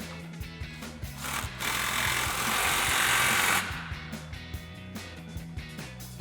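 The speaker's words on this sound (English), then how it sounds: "we can go ahead and start tightening all of our clamps down with our 15 mil socket on our impact" An impact wrench with a 15 mm socket tightens exhaust clamps on a cat-back system, a loud sustained burst of rattling hammering in the middle, set off by quieter rhythmic mechanical tapping before and after.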